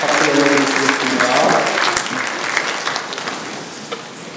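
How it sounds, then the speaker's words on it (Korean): Applause from a church congregation at a Wednesday worship service, a dense and steady wash of clapping that fills the room and slowly thins toward the end. "감사의 영광 박수 올려드리겠습니다"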